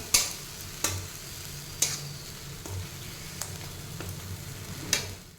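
Masoor dal fritter masala fries in a pan with a soft steady sizzle, punctuated by several sharp scraping stirs of a utensil at irregular intervals, close and fairly quiet.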